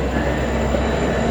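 A Metra commuter train rolls along the rails, heard from on board or close by as a loud, steady rumble and roar with a faint high squeal running throughout, and no voices.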